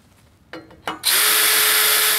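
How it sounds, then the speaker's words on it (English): Power drill boring holes in a metal tube for a travel trailer leveling system bracket, two short trigger bursts and then a loud, sustained high whine of the bit cutting into the metal, up close. "Now you're gonna want to either drill those holes while they're in the bracket"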